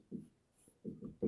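A pen writes on paper in short scratchy strokes, three or four quick bursts separated by brief pauses, faint and close, with no talking.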